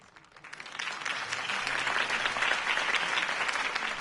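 A crowd bursts into dense applause that swells quickly and holds steady, loud and close, with no talking.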